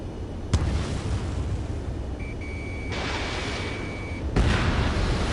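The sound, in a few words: explosion of destroyed target in a video game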